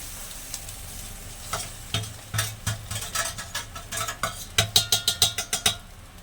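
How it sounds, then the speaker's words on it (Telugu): Noodles are stirred and fried in a pan, with a soft steady sizzle under a series of rhythmic scraping stirs that grow louder and faster toward the end. "ఇలా అయితే తిప్పుతూ ఉంటాను ఇలా తిప్పుతూ ఉంటే అవే విడిపోతూ ఉంటాయి"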